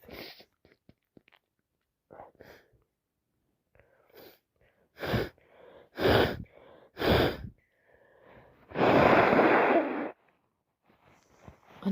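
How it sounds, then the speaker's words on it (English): Congested sniffing and snorting from someone with a cold, several wet nasal breaths and snuffles in bursts, close and loud, ending in a longer noisy exhale or nose blow between quiet gaps. "Sneezing, sniffing, rubbing my nose."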